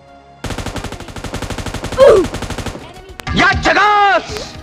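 Rapid automatic gunfire in the video game PUBG Lite rattles loudly and steadily for about two and a half seconds, then stops and a voice starts talking.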